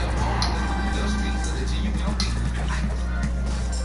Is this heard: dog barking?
yes